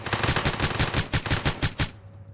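Video game gunshots ring out in a rapid, evenly spaced burst of about a dozen loud, close reports, ending abruptly into near silence.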